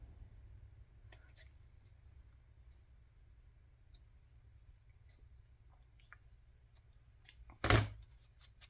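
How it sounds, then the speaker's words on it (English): Scissors make a few quiet, sparse snips while cutting the corners of paper during a craft project, ending in one sharper, louder cut over a faint steady hum. "I'm gonna snip the corners here"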